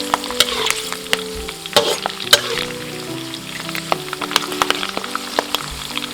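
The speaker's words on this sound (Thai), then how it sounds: "คนไปเรื่อยๆนะครับ จนกว่า ใบมะกรูด แล้วก็ใบเตยเราที่ออกสีเขียวจะเริ่มออกเป็นสีเหลืองๆนะครับ" Kaffir lime and pandan leaves fry in oil over medium heat for herb-fried fish, a constant crackling sizzle broken by frequent clicks and scrapes of a utensil stirring the pan, close up with no voices.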